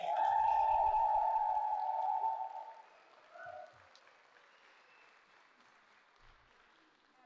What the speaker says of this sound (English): And a round of applause for these amazing actors.